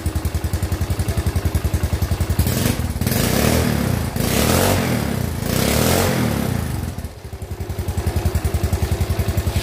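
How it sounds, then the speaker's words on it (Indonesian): A Yamaha Mio Soul scooter with a heavy, hard-to-turn rear wheel idles with a rapid putter, then revs up loudly twice in sustained pulls before dropping back to a close, steady idle. "Oke, motornya sudah hidup. Saya coba untuk gas dulu ya."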